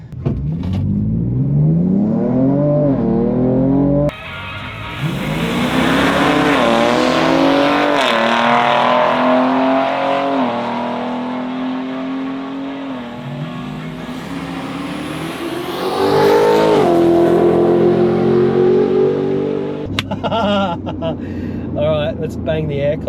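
Ford Ranger Raptor on 33-inch tyres launching down a drag strip in 2H with the exhaust in Baja mode, engine revving loud and climbing through repeated gear changes, close and continuous, with a brief lull and a final burst near the end; a voice speaks over it.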